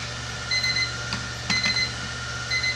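A beeping alarm clock sounds in a quiet room, with two short bursts of rapid electronic beeps about a second apart and a faint steady hum beneath them.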